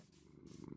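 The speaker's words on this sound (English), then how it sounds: "We now have a cat." A cat purrs in a Minecraft-style sandbox video game, a steady low rumbling purr that rises slightly louder toward the end of a brief moment, with no talking.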